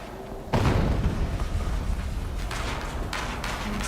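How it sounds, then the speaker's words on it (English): An explosion in a video game hits as a sudden loud, deep boom, followed by a sustained rumbling roar that slowly settles over a few seconds, with no talk over it. "An explosion."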